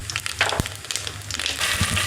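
Cumin seeds being crushed by hand and dropped into a hot pan for fasting-day potatoes, a soft crackly crunch with a brief thump over a low, steady background hum.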